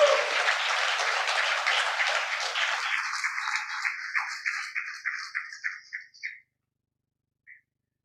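Applause from a conference audience at a South Asia nutrition event, dense clapping that thins into a few scattered claps and fades out, with one last lone clap after a short silence.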